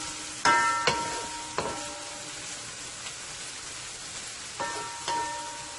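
Shrimp sautéing in a pan for a Guyanese-style fried karela and bora dish, a soft steady sizzle under a few sharp clinks of a spoon stirring against the pan.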